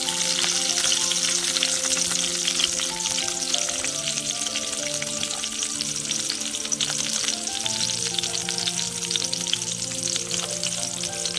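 Boiled green peas tipped into hot tempering oil in a pan, sizzling and crackling steadily and loudly throughout, with faint tonal sounds running underneath.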